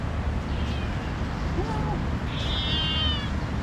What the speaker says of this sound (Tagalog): May pusa na naman.